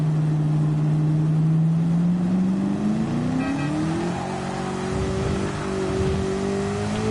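A Superbird race car engine drones loud and close at Le Mans in a racing video game, holding a low steady pitch before climbing smoothly as it accelerates and then sustaining a higher, even roar.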